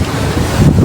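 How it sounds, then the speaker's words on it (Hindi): Strong wind buffets the microphone at sea as high waves surge, a loud, low roaring rush with a dull swell of water rising toward the end of a very short burst. "बहुत तेज़ हवा चल रही है और समुंदर भी जो है ना वो फुल जोबन पे है"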